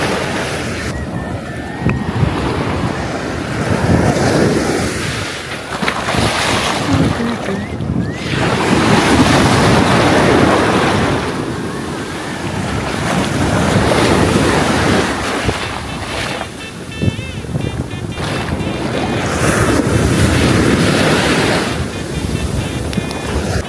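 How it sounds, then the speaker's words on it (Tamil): Strong ocean surf on a Kerala beach rolls in as repeated loud crashing waves, several swelling surges with brief lulls between them, mixed with heavy wind buffeting the microphone. "அலைங்க ரொம்ப ஸ்ட்ராங்காக இருக்குது இந்த இடத்துல"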